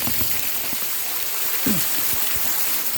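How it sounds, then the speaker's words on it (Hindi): Steady rain falls on a flooded street where water stands deep between houses, a continuous hiss of drops and splashing runoff with a few low thumps, heard alone without voices. "बारिश हो रही है, बहुत अच्छा मौसम हो गया।"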